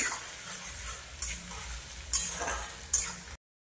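Oil sizzles steadily in a pan ahead of potato, eggplant and taro, with a few louder bursts of stirring scrapes, close by, before the sound cuts off abruptly.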